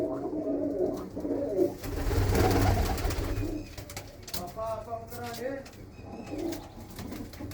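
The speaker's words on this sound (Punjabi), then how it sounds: "ਬਹੁਤ ਹੀ ਸੋਹਣਾ ਕਬੂਤਰ ਆ" Pigeons coo close by in low, rolling calls, mixed with rustling and handling noise, while someone talks at intervals.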